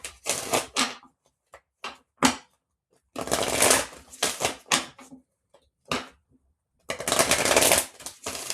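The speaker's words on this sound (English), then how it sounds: "Let's pull a Life Happens card." Oracle cards being riffle-shuffled and pulled from a deck, close and crisp, in several bursts of fluttering shuffles separated by short taps and pauses.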